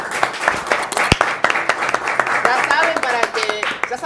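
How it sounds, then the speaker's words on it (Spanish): Studio audience applause and clapping for guests from a food company during a magazine program, dense sharp claps throughout with voices and chatter mixed in. "Fuerte el aplauso para los chicos de Orbi."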